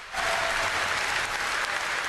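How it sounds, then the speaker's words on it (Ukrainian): Loud, sustained ovation filling the Kremlin hall, dense rushing clapping from a large audience that swells in abruptly and holds steady without a break. "Коли мова зайшла про приєднання, вони перейшли в овації"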